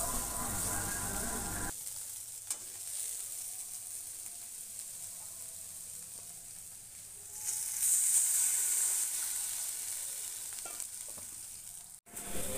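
Bitter gourd slices fry in a pan in a home kitchen, an ongoing close sizzle that swells louder midway, with a few soft stirring knocks and no talking.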